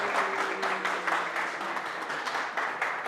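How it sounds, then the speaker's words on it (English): Audience clapping at a Salesforce Saturday community meetup, a short, steady burst of moderate applause from a modest crowd. "Can we have a clapping, please?"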